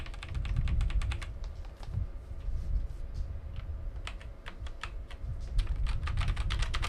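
Rapid typing on a computer keyboard at a Ryzen 7 9800X3D gaming PC: close, continuous clusters of crisp key taps in irregular bursts, steady low fan hum underneath, no speech.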